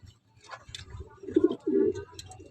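A pigeon coos twice close by, low and throaty, with a few faint rustles and bird sounds around it.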